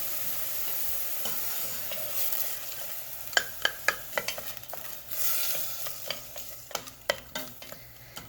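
Ingredients for baked spaghetti fry in a pan over medium to medium-high heat, a soft background sizzle punctuated by a run of clicking, tapping spatula strokes against the pan.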